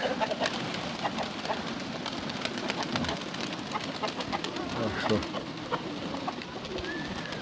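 Pigeons coo softly amid a busy outdoor background, with a brief voice speaking near the end and steady ambient noise throughout.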